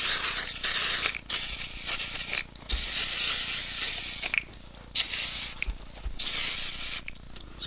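Interior cleaner sprays onto worn Gucci Guccissima leather hi-top shoes in several loud, close hissing bursts with short pauses between them. No one speaks.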